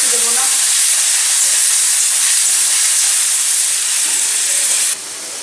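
Water poured into a hot wok of prawn roast with garam masala hisses loudly with a steady, dense sizzle of steam that holds for about five seconds, then drops sharply as the noise subsides.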